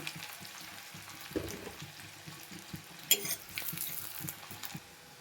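Sliced onions fry in hot oil with a faint, steady sizzle, broken by soft scrapes and stirring knocks against the pan.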